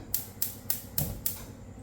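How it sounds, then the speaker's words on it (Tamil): Five sharp clicks in a steady rhythm, like a gas stove igniter being pressed repeatedly, close and fairly loud. "இப்போ நம்ம ஸ்டவ் ஆன் பண்ணிக்கலாம்"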